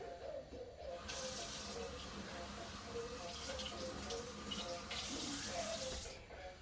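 A kitchen faucet runs water over broccoli in a sink, a steady hissing splash that starts abruptly, continues for about five seconds and then stops.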